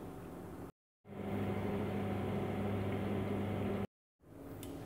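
Oven heating eggshells at 180 degrees: a steady low hum with a fan-like rush, interrupted twice by brief silences.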